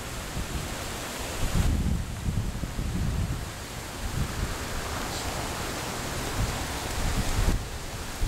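Steady rain from Hurricane Debbie falling outdoors in Orlando, Florida, a broad continuous wash of noise with heavier gusty surges, loud and close throughout, with no voices.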